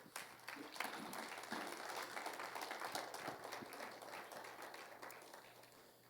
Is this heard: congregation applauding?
yes